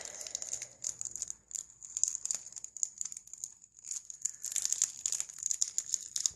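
Packing tape is peeled and torn off a Moyu cube box during an unboxing, with a series of faint crinkling rips and crackles that come in uneven bursts close by.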